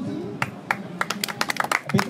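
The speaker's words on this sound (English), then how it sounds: "A big clap for him." An audience at an English language club event in Sudan claps in scattered, uneven bursts, sharp broadband hits of moderate loudness over a low murmur of room noise.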